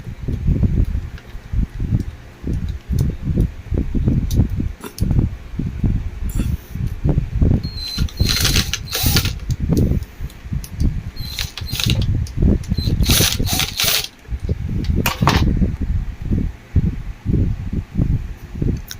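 An Usha table fan, just repaired after running slow and sticking, spins freely with a steady close-up mechanical whir, broken by rapid rhythmic rattling pulses and a few brighter clicks along the way.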